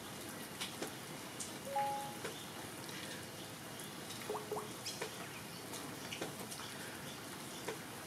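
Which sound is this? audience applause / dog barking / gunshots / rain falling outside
rain falling outside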